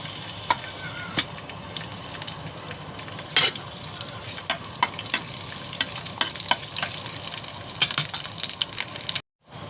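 Garlic, ginger and dried coconut roast in oil in a pan with a steady close sizzle, punctuated by sharp clicks and scrapes from a stirring spoon. The sound cuts out briefly near the end.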